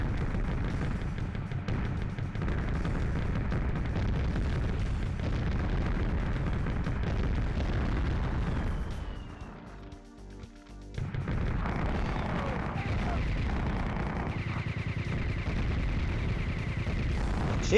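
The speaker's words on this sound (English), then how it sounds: "Chain gun seems to be mostly for infantry." Tank chain gun fire in the PS1 game Mass Destruction, a dense, continuous roar of rapid shots and booming blasts that briefly drops away midway before resuming at full loudness.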